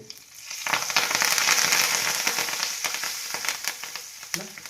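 Curry leaves dropped into hot oil with crushed cloves and black pepper for onion-garlic moong dal kachori filling, bursting into a loud, crackling sizzle that swells quickly and then settles into steady spitting pops.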